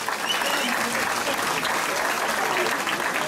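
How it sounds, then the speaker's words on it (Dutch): A crowd at a kickboxing event applauds, thick continuous clapping at a steady high level from start to finish, with murmured voices mixed in under it. "daar zou ik graag een applaus voor"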